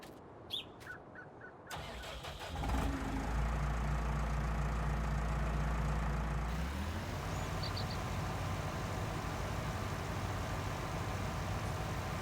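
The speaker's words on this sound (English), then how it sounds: "we're going to be driving our tractor here across the field" A tractor engine in the Farming Simulator 19 video game starts up, then settles into a steady, low droning rumble as it drives across a field, with a faint chirp briefly audible and no talking.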